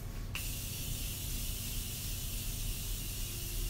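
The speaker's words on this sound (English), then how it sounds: "So I'm going to use the Morphe spray once more." Morphe setting spray misted onto a face, one sharp burst of spray at the start followed by a steady close hiss that holds to the end.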